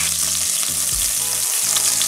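Pieces of beef sizzle and fry hard in a stew pot, a dense, loud, continuous crackle with no one talking.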